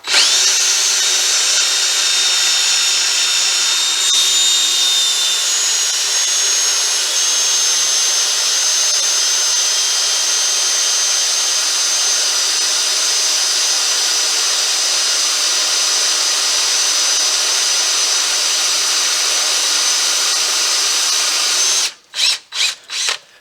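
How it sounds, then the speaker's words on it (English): A power drill whines steadily at high pitch for a long stretch, drilling through a metal A-arm on a 1993 Chevy pickup, then stops and gives a few short bursts at the end. "I'm going to take my drill, I'm going to go ahead and drill through."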